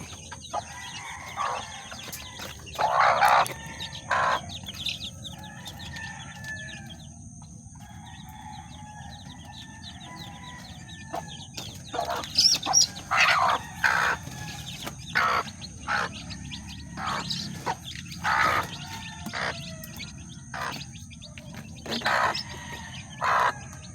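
Backyard chickens, hens and roosters, feed in the morning, with soft clucking, pecking and occasional crowing in bursts at moderate distance; no talk.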